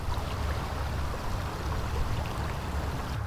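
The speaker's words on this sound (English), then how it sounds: "Can you actually hear the water?" Water rushes and gurgles steadily in a continuous broadband wash, close and moderately loud, with no voices.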